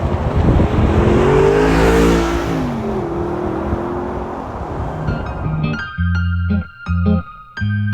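A 2009 Audi R8 on an open road, its engine loud and close as it climbs through revs in rising and falling sweeps, then settles into a lower cruising note with a few gear-change dips near the end, no talk.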